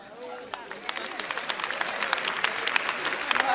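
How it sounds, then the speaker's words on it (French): Audience applause in a hall, sharp individual claps building from scattered to a dense, steady ovation, moderately loud with faint crowd murmur underneath. "Par applaudissement, est-ce qu'il y a des parents d'élèves dans la salle?"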